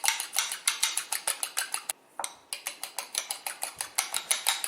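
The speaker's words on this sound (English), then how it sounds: "you just want to try to mix them like that with a fork" A fork whisks three egg whites in a container with quick, steady rhythmic clinks and taps. A brief pause breaks the strokes partway through. No voice is heard.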